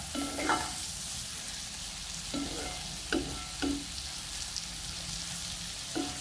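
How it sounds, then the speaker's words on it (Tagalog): Buttered garlic shrimp sizzles steadily in a pan while a utensil stirs it, scraping in several short, distinct strokes over the constant fry. "Haluin lang natin ng haluin hanggang sa maluto siya."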